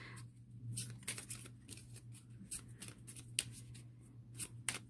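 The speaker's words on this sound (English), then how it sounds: "you can kind of shuffle this, see how well it works" A small 13-card pocket love oracle deck is shuffled by hand, giving a quick series of light papery riffles and taps over a soft low hum, close and fairly quiet.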